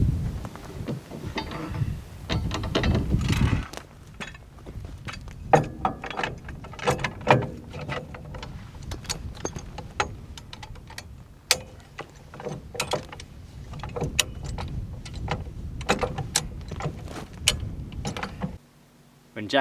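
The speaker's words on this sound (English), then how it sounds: "I'm going to need to jack up my vehicle and wedge the spring back into place" Steel Hi-Lift jack ratcheting under a Land Rover Defender during a roadside spring repair, a long run of sharp repeated clicks and clacks at close range over a low rumble, with handling noise between strokes.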